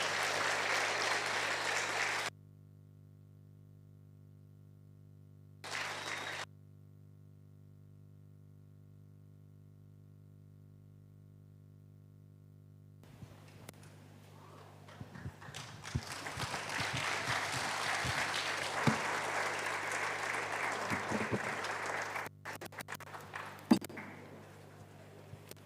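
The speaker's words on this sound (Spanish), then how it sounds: "con gran aplauso, vamos a recibir nuestro siervo, Pastor y Doctor Pablo Sin." Audience at a Bible seminar in Bolivia applauding to welcome a pastor; after near silence and brief bursts, broad crowd clapping swells in and continues to the end with a few sharp knocks.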